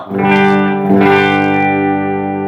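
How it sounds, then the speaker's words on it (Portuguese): An electric guitar played with a clean tone rings out one loud, sustained chord that is restruck once and then holds steady, with no voices. "Esse aqui é o som limpo da guitarra."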